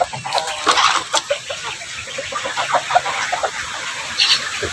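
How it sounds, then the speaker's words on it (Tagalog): A Chinese chicken hen clucks in short, irregular bursts outdoors on a small farm, fairly close, with a steady wash of background noise and no talk. "Yun yung aking Chinese chicken."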